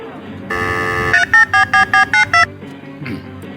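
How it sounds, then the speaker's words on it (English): A telephone, called the bat phone, is dialed: a steady tone plays, then seven short, loud key tones sound in an even, quick rhythm. Faint talk follows. "Let me make a quick call on the bat phone."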